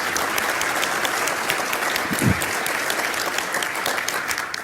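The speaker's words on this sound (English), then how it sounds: "let's give him a round of applause for being the champion today" Steady applause from a crowd, a dense wash of clapping that holds at an even loudness throughout.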